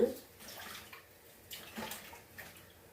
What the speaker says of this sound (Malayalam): പാൻ അടുപ്പി വെച്ചിട്ടേ നമുക്ക് ഇച്ചിരി എണ്ണ ഒഴിച്ചു കൊടുക്കാം